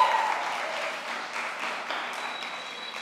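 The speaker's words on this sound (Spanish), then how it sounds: "La recibimos con un fuerte aplauso." Audience applause welcoming a speaker to the stage at an evening gathering, a soft, even patter of clapping that holds steady at moderate volume for a few seconds.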